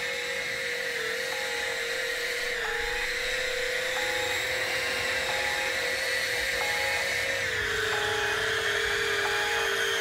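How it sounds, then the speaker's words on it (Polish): A bomb-carrying drone in a video game buzzes with a loud, steady high-pitched whine that wavers slightly in pitch, droning continuously throughout and heard alone. "Drone z bombą aktywny."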